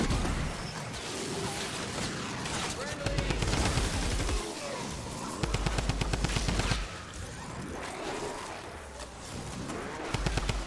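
Gunfire in the video game Fortnite: Save The World comes in loud bursts of rapid automatic shots and repeated single cracks, close and continuous for several seconds. Game effects and voices run underneath.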